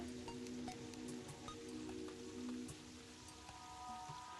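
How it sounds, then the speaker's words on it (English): Rain in the video game Terraria patters softly and evenly, a faint continuous drizzle of scattered drops with faint tonal background sounds and no talking. "this rain is still going"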